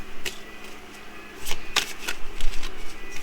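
Tarot cards are shuffled by hand in a series of quick papery riffles and flicks. The bursts are close and grow busier toward the end, with no talk.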